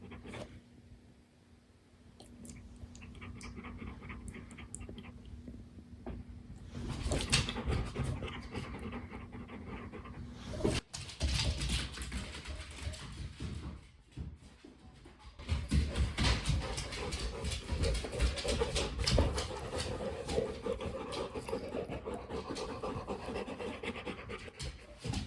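A sleepy puppy pants softly and steadily at close range, with occasional scratching and rustling movement noises and a brief sharp knock partway through; no one speaks.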